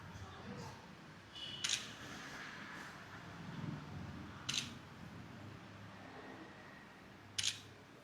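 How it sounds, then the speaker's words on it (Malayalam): A camera shutter clicks while a photo is taken, three short crisp clicks spaced a few seconds apart over faint room noise and quiet background chatter. "ഓക്കെ, നോക്കിയാ ഒരു ഫോട്ടോ എടുക്കട്ടെ."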